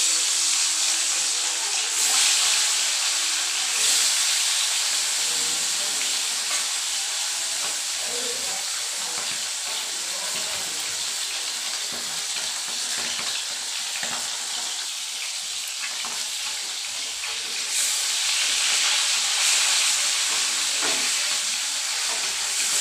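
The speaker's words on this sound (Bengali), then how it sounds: "তেল গরম হয়ে গেছে। এবার আমি মাছটাকে ভেজে নেব।" Fish crackles and hisses in hot oil in a pan, a loud, continuous sizzle heard up close that swells and eases slightly over time with no talking.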